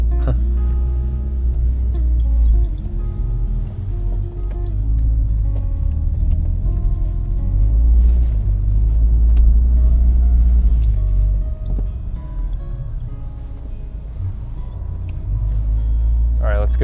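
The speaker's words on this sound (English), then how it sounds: "nice little drift for the camera." A 1993 Volvo 240 wagon slides through a snowy corner, its engine a steady low rumble close by with a brief swell in the middle, while people talk over it throughout.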